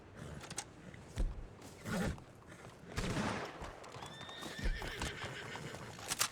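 A dying horse in the video game Red Dead Online whinnies and snorts in short bursts, with hoof clops and thuds between them, fairly close and somewhat faint.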